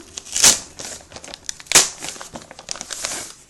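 A package torn open by hand, crinkling plastic wrap with two sharp ripping bursts and lighter rustling between, close and clear, no talk.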